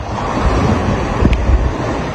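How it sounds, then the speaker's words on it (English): Ocean waves and strong wind while a yacht sails fast through the waves, a loud steady roar of wash and gusting wind close to the microphone, with no talking. "it's nice sailing in the waves"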